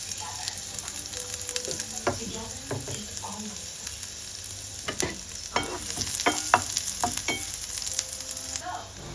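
Chopped red onion and garlic frying in butter in a pan for a baby soup, a steady close sizzle punctuated by spoon scrapes and taps as the mixture is stirred, moderately loud with no talk.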